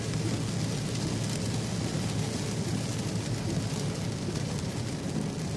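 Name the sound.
rain during storm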